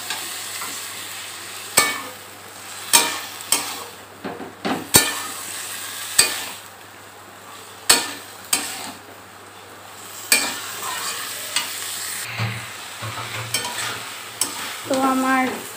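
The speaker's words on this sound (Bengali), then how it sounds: "এই মটরগুলো দিয়ে দেব, দিয়ে আমি এটাকে ভালো করে কষাবো" Boiled peas for ghugni are sautéed in a pan, frying under a low sizzle, with a dozen sharp spoon knocks and scrapes against the metal at irregular intervals.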